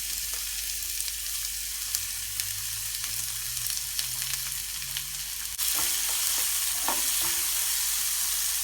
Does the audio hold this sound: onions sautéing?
yes